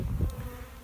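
Honey bees buzz steadily during a hive inspection, a dense low drone close by with no talk over it.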